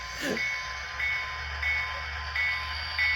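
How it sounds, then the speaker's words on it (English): An Athearn Genesis F45 model diesel locomotive with an onboard sound decoder, powered on, gives a steady idling engine rumble with faint repeating tones, held at an even level throughout. "It's a sound locomotive. It has a decoder in it."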